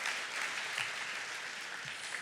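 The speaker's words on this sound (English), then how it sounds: "you can clap, it's a good thing" An audience at opening remarks for a life sciences innovation event gives a brief patter of applause, soft and fairly distant, steady throughout with no one speaking.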